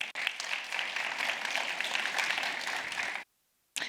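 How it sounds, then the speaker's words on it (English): Audience applause welcoming guest speakers, the managing directors of T-Systems and AECOM, at a business panel event, a steady burst of clapping that cuts off abruptly, then a brief short return. "A round of applause, please"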